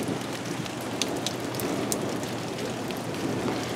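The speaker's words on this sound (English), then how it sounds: "This is the first thunderstorm we've had in a couple of years." Rain from a thunderstorm in a backyard in Burbank, California, falls steadily as a close, continuous hiss with scattered louder drops and patters and no speech.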